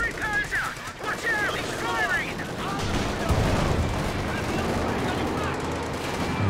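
Gunfire in a Company of Heroes 2 battle, with Panzer IV tank fire and artillery nearby: repeated sharp shots and bursts over a rumbling battlefield, with a commentator talking over the action.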